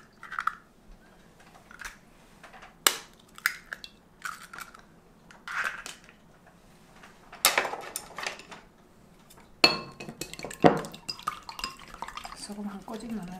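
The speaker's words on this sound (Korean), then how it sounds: "자, 계란을 먼저 풀어놓을게요." Eggs being beaten in a bowl, a series of quick light clicks and taps of utensil against the bowl, with brief bursts of clatter, close and fairly faint against a quiet room.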